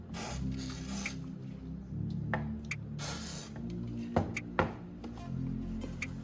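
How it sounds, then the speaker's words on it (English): Quiet bursts of WD-40 aerosol spray hissing in short pulses onto sanded plastic, with light cloth rubbing and wiping sounds between them, close by. "Next, I'll spray some WD-40 onto the surface and wipe it clean with a cloth."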